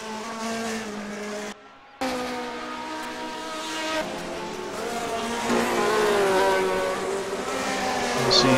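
Several 1971 Formula One racing cars, including a McLaren, scream down the straight at the Italian Grand Prix, their engines holding steady high-pitched tones that rise toward the end, with a brief gap near the start.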